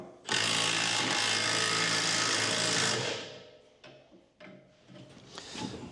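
Metal tools ring and scrape as nuts are tightened with a pry bar on the springs of a Boss DXT angle blade snow plow during assembly, a loud continuous grinding burst for about three seconds followed by scattered clanks and rattles, no talk.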